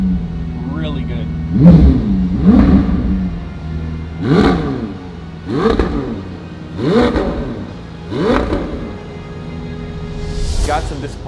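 A McLaren 750S engine revs close by in a series of about six sharp blips. Each rises and falls quickly over a low idle, evenly spaced, loud and alone.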